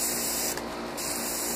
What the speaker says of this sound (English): When you turn the airbrush down like this, you're trying to spray fine spots.